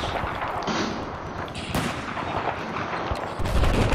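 Rapid gunfire bursts from a Battlefield 4 Conquest match on the Altai Range map, dense and continuous with sharp cracks throughout, staying loud the whole time with no clear talk.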